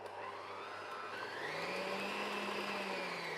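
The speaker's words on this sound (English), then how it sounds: "I'm just going to slowly fold the flour into the mixer on low" An electric mixer running on low through banana bread batter as flour goes in, giving a steady close motor whir that rises slightly in pitch partway through, with no voices.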